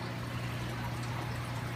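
Water pours steadily from a hose during an aquarium water change in a fish room, a continuous close splashing rush with a low hum beneath and no talking.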